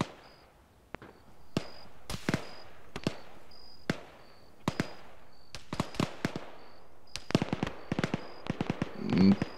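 Distant BLUFOR gunfire in the Arma 3 military game, scattered sharp cracks and short bursts at irregular intervals, some single shots and some clustered rapid volleys, over a faint background tone.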